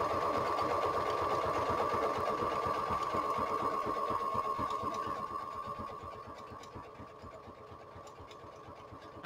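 A sewing machine runs steadily as it stitches along a book cover, a close, continuous mechanical hum and rapid needle chatter that eases off toward the end.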